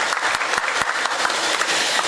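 Audience applause at a Hindi kavi sammelan poetry gathering in Bareilly, welcoming poet Neelam Saxena to the stage: dense, steady clapping from a full hall, loud and continuous with no voices over it.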